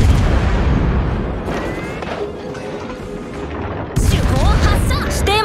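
Naval gunfire in World of Warships during a clan battle, heavy booming salvos and rumble, with a loud fresh blast near the four-second mark followed by whistling shells; voices talk intermittently over the battle.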